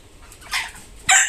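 Hens and roosters on a small poultry farm give short clucking calls, two brief bursts close by with a quiet gap between them and no talk.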